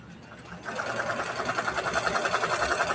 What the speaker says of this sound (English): So now I'm just sewing these blocks together.